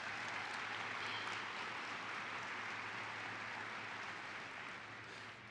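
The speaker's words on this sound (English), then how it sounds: "Give him a round of applause." A conference audience gives a faint, distant round of applause for a university opera singer after the national anthem, a smooth sustained patter easing off slightly at the end.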